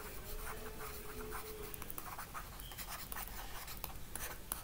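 Marker or chalk strokes scratch across a classroom board during a lecture, a string of short uneven scrapes and taps over faint room noise, close and without talk.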